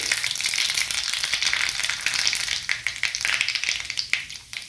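Mustard seeds and cumin crackling in hot oil in a small tadka pan, a dense continuous sizzle dotted with sharp popping bursts, close and fairly loud, with no voices.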